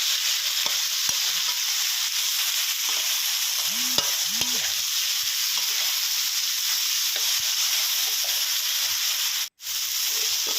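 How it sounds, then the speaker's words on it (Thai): Straw mushrooms stir-fried in oyster sauce with a little sesame oil in a pan give a steady broadband sizzle, with scattered utensil scrapes and a couple of short clanks, then a brief dropout near the end. "นี่ครับผัดไปเรื่อยๆนะครับ ผัดไปเรื่อยๆนะครับผม"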